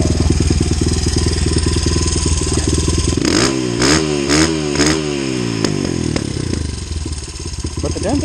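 1997 Honda XR100 dirt bike with a 120 big bore kit and FMF Pro Power Core 4 exhaust, running loud and close: a choppy idle, then several sharp revving blips that rise and fall before settling back to idle.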